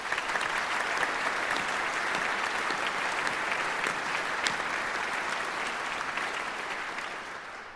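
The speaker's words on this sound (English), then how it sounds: "these two and others deserve a special round of applause" A hall audience at a music competition finals gives a steady round of applause for arts supporters. The clapping is dense and even and sounds somewhat distant, thinning slightly toward the end.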